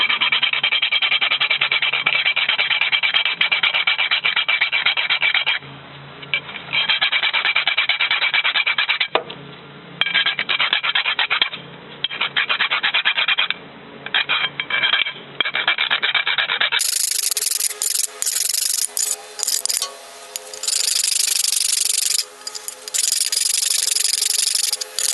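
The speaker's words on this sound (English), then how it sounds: "And sand it down a little more." A rear brake pad for a Nissan Altima is sanded down by hand in long, loud, continuous rasping strokes with a few brief pauses. The scraping grows brighter and sharper toward the end.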